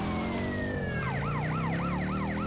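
A police siren in GTA Vice City Stories starts as a long falling wail, then switches to a fast repeating yelp of rising and falling sweeps over a low engine hum, loud and close.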